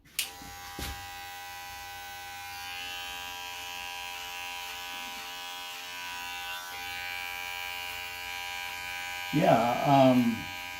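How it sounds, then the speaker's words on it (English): A regular electric hair clipper with a 1/8 inch attachment cuts a gentleman's hair, giving off a steady, close buzz with faint shifts as it moves through the hair. A short voice sounds near the end. "Using regular clipper with 1/8 of an inch attachment."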